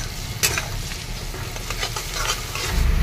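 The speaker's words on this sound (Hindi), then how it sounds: "देख सकते हैं तेल में मैंने प्याज डाल दिया हूँ और क्या ही मस्त तरीके से फ्राई हो रहा है" Onions frying in oil at the start of a chicken curry, a continuous close sizzle with occasional louder stirring scrapes and crackles, no voices.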